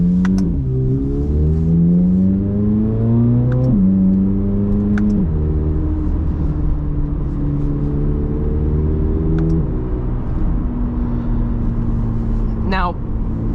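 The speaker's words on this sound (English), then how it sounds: "You can drive this car with the radio off all the time just because of the sound and how visceral this thing feels." A 2023 Chevrolet Corvette Z06 3LZ engine accelerates hard through repeated rising gear pulls, each climbing pitch snapping to a lower note at a shift, loud and close from inside the car, with talking partly over it.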